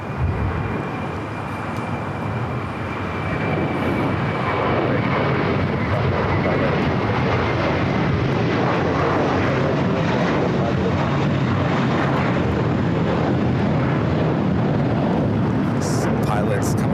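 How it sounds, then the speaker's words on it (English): A British Airways Boeing 777-300ER jet taxiing at Los Angeles airport, a loud sustained engine roar that fills the whole stretch with a broad rumbling hiss, close and continuous. "that 777-300ER with British Airways heading over to the southeast corner of Tom at Bradley"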